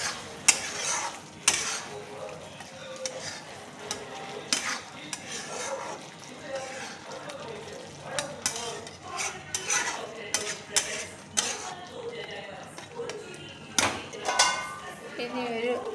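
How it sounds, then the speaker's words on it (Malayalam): Metal utensil scraping and clinking in a pan while chilli chicken with green chillies is stirred, a steady run of scrapes and clanks under a soft continuous sizzle. "ഇനി ഇളക്കണം, ഇങ്ങനെ ഇളക്കണം."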